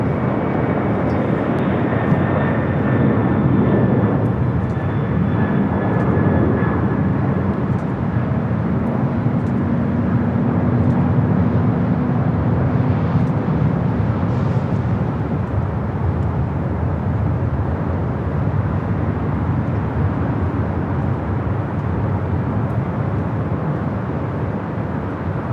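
A Boeing 747 jet airliner takes off at LAX. A broad, sustained roar stays loud and steady, with a faint whine gliding downward early on.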